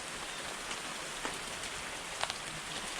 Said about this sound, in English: Definitely a lot colder feeling when it's raining outside.